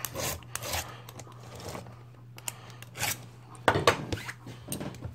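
A hand file scrapes the rakers of a chainsaw chain in a series of short, close rasping strokes with small pauses between them.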